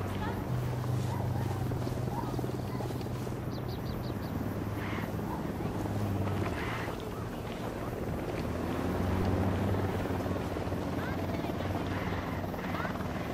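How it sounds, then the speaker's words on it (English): Helicopter in the video game Ghost Recon Wildlands, a steady rotor drone with a low engine hum running continuously throughout, mixed with wind noise and game ambience. "Don't need that chopper. Stay low."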